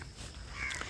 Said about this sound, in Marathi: काय रे बाबा कावळा नुसता ओरडतोय